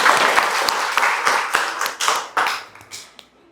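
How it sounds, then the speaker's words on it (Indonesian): An audience breaks into lively applause, many hands clapping close and loud, then thinning and fading toward the end. "Kita beri aplaus buat kita semua."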